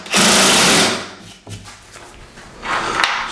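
A power saw roars loudly for under a second cutting a 2.25-inch Hardie fiber-cement trim piece, then drops away to clunks and handling noises of the workpiece, followed by a second, softer whirring burst near the end.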